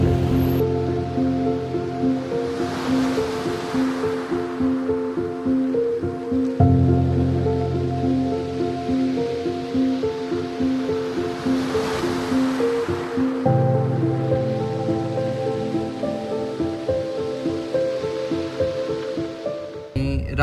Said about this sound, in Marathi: दोन्ही साईडला समुद्र आहे बघा, इकडं आणि इकडं पण समुद्र आहे.